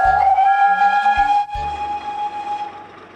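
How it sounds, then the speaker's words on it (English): A steam locomotive whistle blows in one long steady blast over the rumble of a train, with a brief break before it sounds again. "Duck gave a hearty whistle too."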